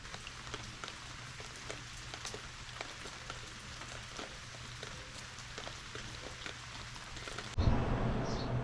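Rain falls on a surface outdoors along the Michigan North Country Trail, a soft continuous patter with scattered drops, then a louder rustle at the end.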